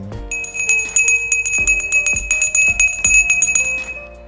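A notification bell chime rings repeatedly in quick succession, several bright metallic strikes with ringing tones that overlap and decay, loud and clear with no voices.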